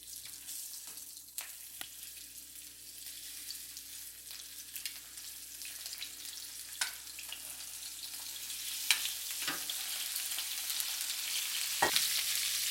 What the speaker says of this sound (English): you're gonna put some oil into it